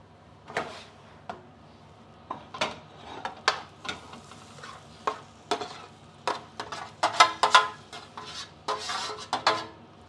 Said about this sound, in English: And I'm just going to pop those into a pot now.